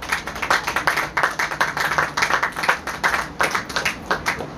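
An audience claps for the Ngomo family at a gathering on marriage, many hands close by in a dense, steady patter that keeps a loose rhythm for a few seconds with no voices over it.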